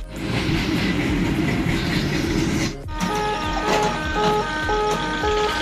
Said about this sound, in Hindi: ये ट्रेन आ रही है देखो यहाँ से कितनी स्लो है मालगाड़ी